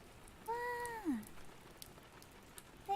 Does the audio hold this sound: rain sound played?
yes